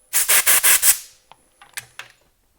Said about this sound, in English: I'm just going to sand that back